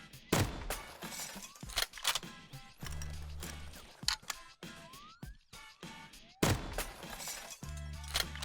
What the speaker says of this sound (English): Even the glass of the car can block the tank bullets for the driver and its passengers.